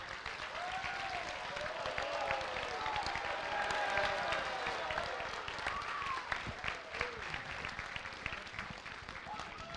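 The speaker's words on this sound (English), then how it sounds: "I think we owe another round of applause to your hero" Audience applause at a school Red Ribbon Week assembly, a sustained wash of clapping from a large room of students that swells and thins over about ten seconds, with crowd voices mixed in.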